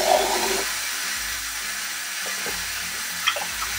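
Water pours steadily into a pot for cooking rice, giving a continuous broadband rush with a few faint clinks near the end and no talking.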